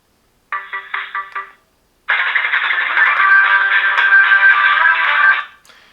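A TCL Onetouch 4043 phone plays a ringtone: a brief burst of electronic chiming notes, a pause, then a longer sustained loud melodic tone that fades out.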